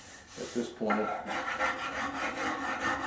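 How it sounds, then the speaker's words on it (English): An almond-shaped file rasps over cherry wood while shaping a Chippendale handkerchief table, a repeated close rubbing in a steady back-and-forth rhythm of several strokes, with brief speech at the start. "I'm using a almond shape file"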